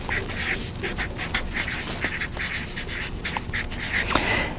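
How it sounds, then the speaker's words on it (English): Marker or pen writing out text on a board, a continuous scratchy scrawl of strokes and short squeaks, close and fairly steady for several seconds with no talk. "So I'll go ahead and write that out."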